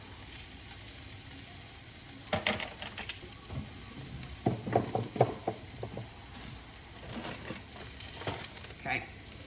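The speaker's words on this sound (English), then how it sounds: "the peppers are still sauteing" Peppers saute in a pan for a breakfast omelet, a soft steady sizzle broken by scattered clicks and stirring scrapes.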